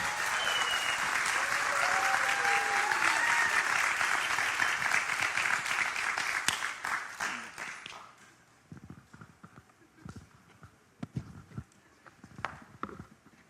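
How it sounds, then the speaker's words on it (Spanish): A church congregation applauds and cheers to welcome a pastor at a conference, loud dense clapping with a few whistles that fades after about eight seconds into scattered claps and small knocks. "yo quiero que lo recibamos con un fuerte aplauso"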